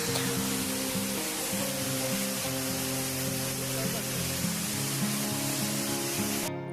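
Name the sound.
waterfall in Kashmir, Neelum valley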